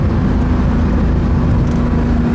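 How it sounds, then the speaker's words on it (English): A Porsche 2.7 RS accelerates with a continuous, loud engine drone heard from inside the car, steady and without a break for the whole stretch. "Feel the car settles down when you accelerate."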